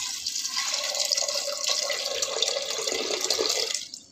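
Water steadily pours into a pressure cooker holding soaked chickpeas, a continuous close splashing fill with no talk, ending abruptly as the flow stops.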